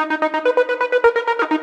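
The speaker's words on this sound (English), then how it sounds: "Lead Apollo is one of the many stutter leads that's in the pack." A stutter synth lead preset called Lead Apollo from a modern dance music sound pack, playing a rapid, evenly chopped stream of bright harmonic pulses, about a dozen short stabs in quick rhythm, loud and alone.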